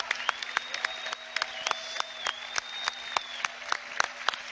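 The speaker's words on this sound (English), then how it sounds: "Keep cheering." An audience at a large Amway anniversary celebration claps and cheers, a dense sustained applause with sharp individual claps standing out, steady and fairly loud.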